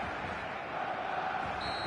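A video game stadium crowd in eFootball, a steady, fairly faint roar of fans cheering and chanting that holds evenly throughout.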